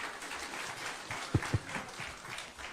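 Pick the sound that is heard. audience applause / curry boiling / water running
audience applause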